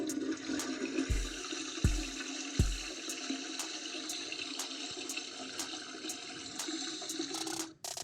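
A toilet flushes with a loud rushing swirl of water that drains and gurgles, broken by a few sharp knocks early on, then cuts off near the end.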